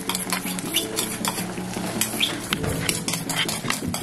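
Egg cooks in a kadai with turmeric and salt while a spoon stirs it. A continuous sizzle runs under frequent metal scraping and clinking against the pan, close by, with no speech.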